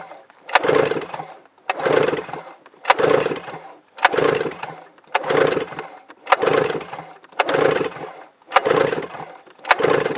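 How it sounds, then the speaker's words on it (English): A 1997 Yamaha Vmax SX 700 triple engine is cranked over in about eight rhythmic, evenly spaced bursts during a compression test, each a close, loud churning whir separated by short pauses. "We'll do an engine compression test, and we'll start with the mag side first."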